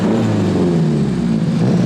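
A Nissan 240SX running for the first time in ten years gives a steady, close engine drone with a low rumbling idle throughout, no voices.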